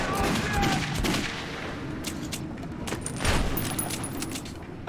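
Rapid gunfire in the Metro 2033 video game, a string of sharp cracking shots in quick bursts over a dense, noisy background, with voices briefly heard.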